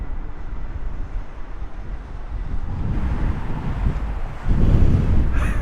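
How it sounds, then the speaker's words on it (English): Strong gusty wind buffets an outdoor microphone at a plane-spotting spot by Heathrow Airport, producing a loud, continuous rumbling roar that swells even harder toward the end, with no talking. "It's super windy."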